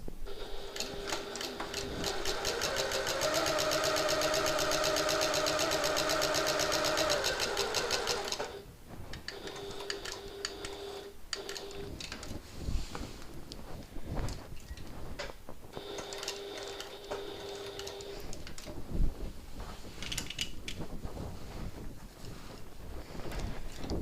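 A sewing machine stitches around a box on a reversible hobo bag, starting with a long continuous whirring run, then short stop-start bursts mixed with handling rustles.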